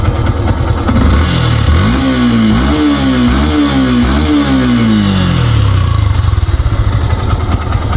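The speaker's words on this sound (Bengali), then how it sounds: "এটা হচ্ছে বাইকের ইঞ্জিন কন্ডিশন খুবই সুন্দর আছে ইঞ্জিনটা এবং বাইকটা চালা অনেক স্মুথলি রয়েছে" A Yamaha FZS version 2 motorcycle engine runs close up, revving several times in quick succession before settling back to a steady idle.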